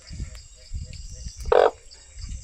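A person's voice imitates a frog croak with one short, loud, raspy burst midway, set against faint low background noise.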